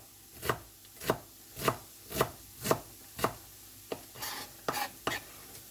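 Knife chopping vegetables on a board, a steady run of sharp, close chops at roughly half-second intervals, followed by a few quicker, lighter cuts.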